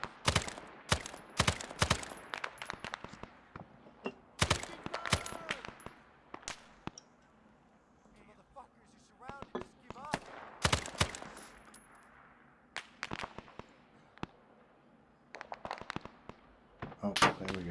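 Rapid bursts of gunfire from the SOG video game, with repeated loud sharp shots in irregular clusters and short pauses, some volleys close and others further off, while a voice talks intermittently over the firing.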